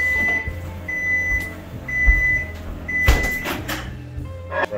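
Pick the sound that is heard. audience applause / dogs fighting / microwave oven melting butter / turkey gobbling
microwave oven melting butter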